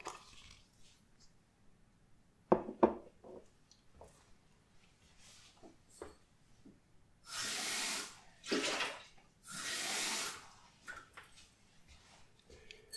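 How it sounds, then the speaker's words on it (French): A quarter glass of water is poured into a chicken marinade in three short, close splashing bursts after some faint handling noises, with no talk. "un quart de verre d'eau"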